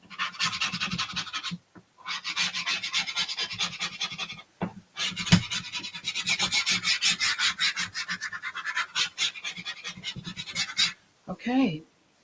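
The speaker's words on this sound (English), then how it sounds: "let me get my bone folder so I can burnish this a bit" A bone folder burnishing vellum paper in papercraft work: close, rhythmic rasping strokes in long runs with a few short pauses, and a brief voiced sound near the end.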